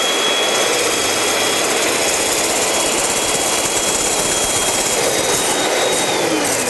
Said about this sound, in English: I have another lovely mixer, and I am going to start whisking.